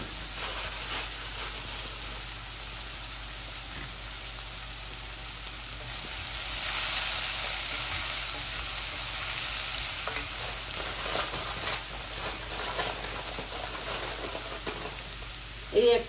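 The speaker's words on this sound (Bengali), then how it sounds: "তিতা কেরালাটা এইভাবে ভাজা ভাজা হোক।" Bitter gourd fries uncovered in a pan, giving a steady, soft sizzle with faint stirring scrapes and a brief louder clatter near the end.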